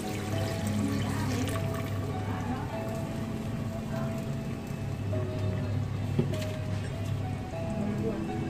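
Half a cup of water is poured into simmering Hyderabadi mutton salan gravy, a continuous splashing wash heard close up over steady kitchen background noise.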